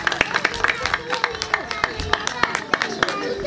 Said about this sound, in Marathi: त्यांच्यासाठी टाळ्या होऊ द्या.